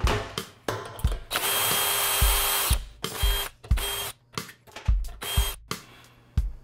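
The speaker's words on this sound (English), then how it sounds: "I like to use a power drill, but you can use a socket wrench or any kind of wrench to take off these bonnet bolts" A power drill runs in repeated bursts, one long steady whir and several short spins with ratcheting clicks, removing the bonnet bolts from a pneumatic diaphragm valve. The sound is close and loud with no talking.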